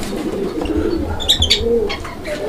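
Fancy pigeons kept in a collection for sale coo nearby in soft, low, rolling calls, joined by a few brief higher chirps midway; no talking.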